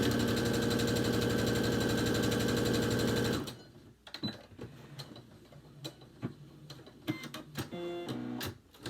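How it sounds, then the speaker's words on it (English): A sewing machine stitches a decorative seam on a homemade fabric mask, running in a loud steady buzz for several seconds, then stopping and giving way to scattered clicks, handling noises and short bursts of mechanism. "You can just sew a straight seam, but, you know, might as well get fancy with it."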